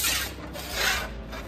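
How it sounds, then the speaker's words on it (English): A grinder rasps steadily across an AMC Rambler station wagon's metal body, grinding away blue paint in a close, continuous abrasive rush that swells and eases as it moves. "we'll just grind till we grind all the blue away"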